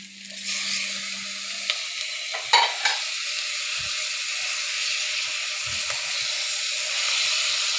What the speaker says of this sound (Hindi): और हल्का सा भूनेंगे। और साथ ही इसमें कीमा ऐड कर देंगे।